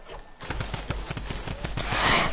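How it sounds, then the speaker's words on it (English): Rapid bursts of gunfire punched through a wall during a custom matchmaking shooter game, a fast rhythmic series of sharp cracks running steadily for a couple of seconds over a noisy background. "He shot right through my wall"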